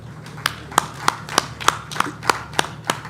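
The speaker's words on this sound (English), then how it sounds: "Please give them a round of applause." Clapping at an aviation week ceremony: about nine measured claps in a steady, even rhythm over a low background hum.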